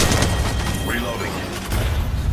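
Gunfire and heavy booms in the mobile shooter Apex Legends Mobile, a dense, loud barrage of shots and impacts with a few sharper cracks, under steady game noise.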